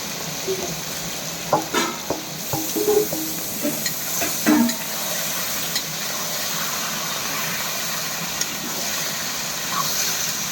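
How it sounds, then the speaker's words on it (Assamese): Duck meat fries in a wok, with a steady hiss and sizzle under scattered clanks and scrapes of stirring in the first half, then a smoother continuous frying sound. "হাঁহ মাংসটো দিলোঁ কেৰাহীত। এতিয়া হাঁহ মাংস ফ্ৰাই কৰোঁ"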